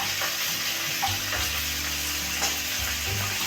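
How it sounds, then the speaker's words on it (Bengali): Winter mixed vegetables with freshly added beans frying and being stirred in a pan, a steady close sizzle throughout with no one speaking. "নেড়ে চেড়ে দিচ্ছি সবজিটা ঢাকা খুলে। এবার শিম দিয়ে দিলাম"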